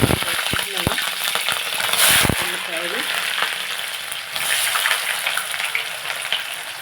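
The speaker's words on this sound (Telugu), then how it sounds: "పొయ్యి మీద నూనె పెట్టుకున్నాను కాగుతుంది" Cooking oil heating in a pan on the stove for a chana dal and brinjal curry, a steady close sizzle with crackles and a few sharp clinks at the start, continuing alone.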